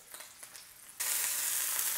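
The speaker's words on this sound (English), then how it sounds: "that's how you want it to look and sound when you're searing the steak" After a second of quiet kitchen clatter, filet mignon steak hits a hot pan and a loud, steady searing sizzle takes over.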